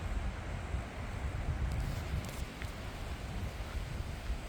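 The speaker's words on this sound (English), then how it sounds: "These trees are blowing in the wind pretty good." Wind blowing hard through trees outdoors, a steady broad rushing roar with low buffeting gusts close to the microphone, continuous and fairly loud with no voices.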